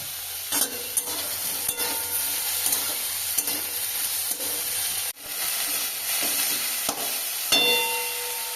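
Potatoes and brinjal fry in a pan with a steady close sizzle, broken by repeated sharp scrapes and clacks of a spatula stirring, and a brief dip partway through.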